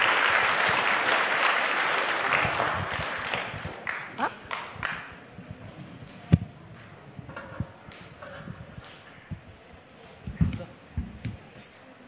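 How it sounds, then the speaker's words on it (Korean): Audience applause greets a fifth-grade child preacher at a church children's Bible festival, a burst of clapping at the start that thins into scattered claps and rustling over about twelve seconds. "큰 박수로 환영해 주시기 바랍니다."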